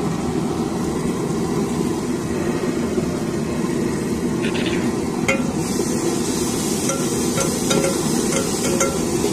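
Onions fry in a pan, a dense continuous sizzle with a low rumbling hum beneath it, broken by a few faint clicks of stirring, loud and close with no speech.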